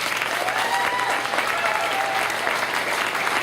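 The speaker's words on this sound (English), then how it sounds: "So another round of applause for everybody." An audience at a girls' graduation ceremony in Chicago claps and cheers in a dense, steady burst of applause that carries evenly from start to finish.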